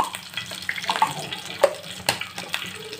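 Urad dal frying in hot oil in a pan for tempering, a light crackling sizzle with scattered pops and clinks, close and moderately loud with no talking.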